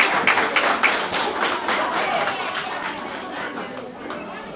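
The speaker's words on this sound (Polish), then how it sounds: "ogromne brawa dla dziewczyn" Audience applause fills a hall at a community carol and pastoral song festival, dense clapping that gradually thins out, with chatter mixed in.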